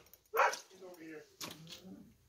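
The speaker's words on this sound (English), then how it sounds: "Don't worry about the dog." A dog in a house gives one sharp, loud bark, followed by a softer bark or yip a second later, with people talking close by.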